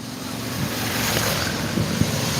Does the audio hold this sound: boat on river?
yes